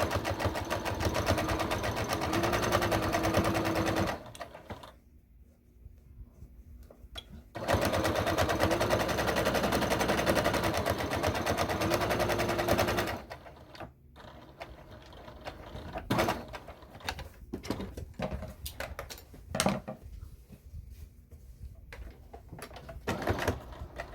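Sewing machine stitching fabric slippers with a 1/8-inch seam, two long steady runs of rapid mechanical whirring separated by pauses, followed by scattered clicks and handling noises.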